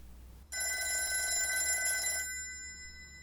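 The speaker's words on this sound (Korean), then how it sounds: "전화벨 소리가 아침의 고요를 산산이 깨뜨렸다" A telephone bell rings loudly in a quiet morning setting: a single continuous burst of bright, metallic ringing lasting nearly two seconds, then stopping abruptly, with no other sound around it.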